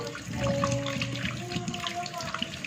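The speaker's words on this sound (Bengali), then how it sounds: "চলো বন্ধুরা চিকেনটা ধুয়ে নিই" Kitchen tap water running while raw chicken is rinsed in a sink, a steady splashing hiss with brief tonal hums underneath, fairly quiet.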